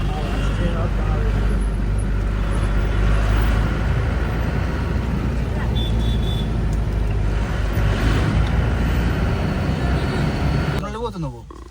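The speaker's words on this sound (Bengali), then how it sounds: "প্রচুর জ্যাম, প্রচুর।" Congested road traffic on the way to Sikkim rumbles steadily with idling and slow-moving engines, close and continuous, with people talking over it.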